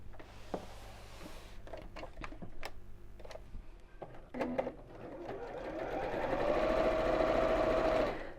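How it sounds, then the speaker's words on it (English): A domestic sewing machine stitches across the top edge of a child's drawstring backpack, with a 1/4 inch seam allowance. A few clicks and light ticks come first, then a steady, rising whir of continuous stitching runs close by for several seconds. "I'm just going to sew across the top edge here."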